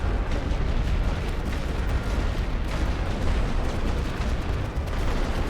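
Light artillery fire from The Great War: Western Front rolls in as a dense, continuous barrage of overlapping booms and crackling bursts. The volleys are loud and unbroken and carry no voices.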